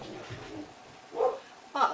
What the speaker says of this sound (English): if you hear noise, I blame the dogs